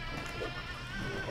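Sheep bleat in the co-op video game Moving Out, a steady nasal bleating tone that carries on through the whole moment at moderate volume, heard alone without speech.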